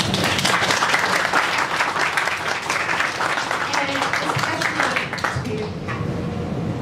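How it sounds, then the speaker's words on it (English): A conference crowd applauds steadily and loudly throughout, dense clapping that holds an even level and tapers slightly toward the end. "we do owe them a round of applause"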